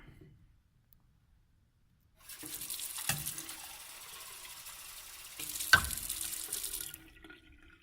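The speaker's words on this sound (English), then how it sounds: "Nice little bit of water." A tap is turned on and water runs into a container for a few seconds, pausing briefly before a second burst, near and fairly quiet.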